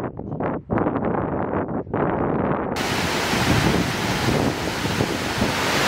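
A waterfall in the Tian Shan mountains gives a loud, continuous rushing roar with a couple of brief dips early on, then swells into a fuller, steady wash of water noise.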